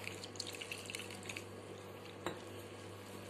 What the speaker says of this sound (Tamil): ஸோ மாவுக்கு தேவையான தண்ணி ஊற்றிக்கோங்க